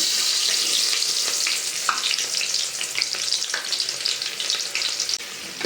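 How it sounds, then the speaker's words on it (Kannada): Onions frying in hot oil with whole pulao and biryani spices for a mushroom biryani, a steady close sizzle and crackle throughout with occasional light stirring clicks, no voices. "ಈರುಳ್ಳಿ ಹೊಂಬಣ್ಣ ಬರೋವರೆಗೂ ನೀವು ಫ್ರೈ ಮಾಡ್ಕೋಬೇಕಾಗುತ್ತೆ"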